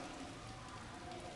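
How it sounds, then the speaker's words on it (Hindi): Steady rain falling on a surface, a dense, even hiss of drops that holds at the same level throughout with no voices. "बारिश के कारण"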